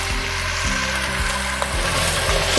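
Chicken sizzles in half a cup of hot oil in a pan with garlic and ginger, a steady close frying hiss throughout, with a few stirring clatters and a small pop near the end.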